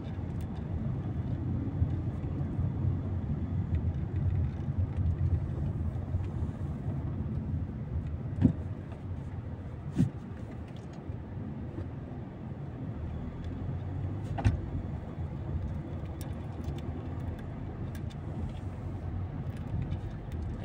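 Heavy, slow-moving road traffic near Eastwood on a weekday, a steady low rumble of idling and crawling vehicles with a few sharp knocks, heard from inside or beside a car with no talk.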